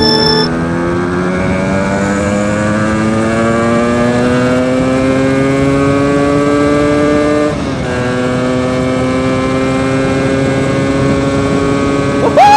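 A 125cc motorcycle engine, a Mitsukoshi Eagle or Rusi Venus, revs loudly up close, its pitch climbing steadily, dropping briefly and rising again in a long sustained whine with no voices.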